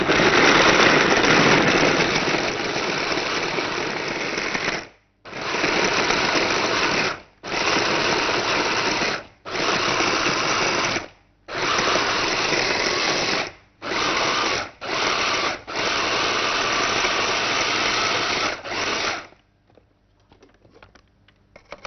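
An electric mixer whirs loudly through ingredients with cinnamon and raw unsweetened cocoa, running in repeated bursts separated by short pauses before stopping.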